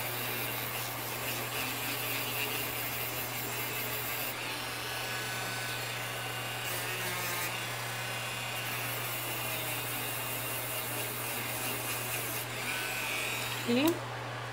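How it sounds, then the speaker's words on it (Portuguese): An electric sander smoothing and finishing a 2D ballerina craft template gives a steady, low buzzing hum with a rough scraping hiss over it, continuous throughout at moderate level, with a small bump near the end. "E vai lixando, dando o acabamento."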